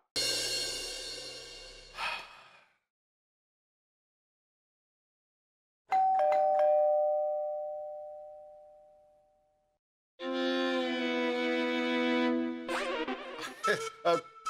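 A house doorbell is rung, with a sustained electronic tone, then a clear two-note ding-dong chime that decays slowly, and later another long ringing tone that ends in a few sharp clicks; no speech.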